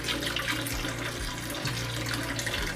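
Water runs steadily from a tap or is poured into a container to soak a Breville Cafe Roma portafilter in vinegar water, a continuous close gurgling splash with no talking.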